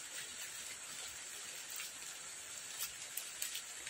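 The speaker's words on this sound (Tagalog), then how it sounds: "Maulan eh. Maulan." Steady rain falling outdoors on a hillside where fruit is being picked, a continuous soft hiss with occasional sharper drops, fairly close and even in level, no talking.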